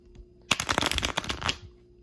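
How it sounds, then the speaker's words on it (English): A deck of playing cards shuffled once up close, a quick crisp riffle of rapid flicks lasting about a second, then quiet. "You can do a shuffle one more time, make sure that it stays on the top."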